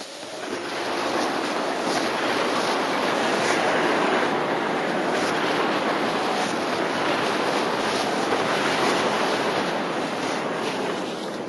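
Orbital MAC cannon strike in the Halo Wars video game, a loud sustained roaring blast like rushing surf and wind that fills the whole stretch at steady volume without letting up.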